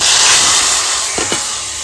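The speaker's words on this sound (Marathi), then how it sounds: "अशीच फोडणी देतो आमच्या गावाला" Sizzling tempering (phodni) for mori mutton masala: a loud, steady, broad hiss of hot oil and spices that fades slightly over two seconds, with a couple of quick crackles near the end.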